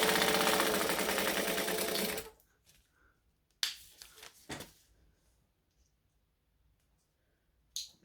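A sewing machine runs fast and steady for about two seconds, chain stitching a 1/8 inch seam on bag pieces, then stops and is followed by a few clicks and handling noises close by.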